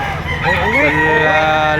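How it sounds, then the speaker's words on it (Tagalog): Many chickens fill a livestock auction market in Lipa, Batangas, with a nearby rooster crowing over a dense din of clucking birds, loud and close. "kahit medyo tanghali na, napakarami pa rin ang manok dito"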